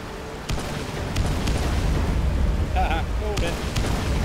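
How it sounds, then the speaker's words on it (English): A deep, sustained rumbling explosion in the city-building game Anno 2070, a low roar that swells and holds, with faint tonal alarm-like blips and a voice speaking over it. "It's going to explode."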